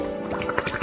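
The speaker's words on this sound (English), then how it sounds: "Pouring our drink into a glass." A drink is poured into a glass while a milkshake is being made with dry ice: a short, close liquid gurgle with a few drip-like splashes, under a second long.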